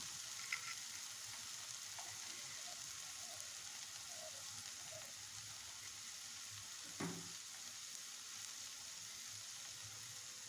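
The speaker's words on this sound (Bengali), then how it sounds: "এখন আমি দিয়ে দিব গুঁড়া মশলা।" Fried onions and powdered spices (chilli, turmeric, coriander and a little panch phoron) sizzle in a pan for a fish curry, a steady soft crackling hiss with a faint utensil clink or two, no talking.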